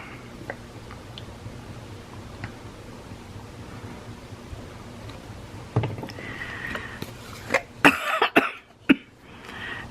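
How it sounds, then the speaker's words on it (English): After quiet background noise, a person coughs several times in short, rough bursts close by, followed by throat-clearing sounds. "So I got this cough because I was just outside."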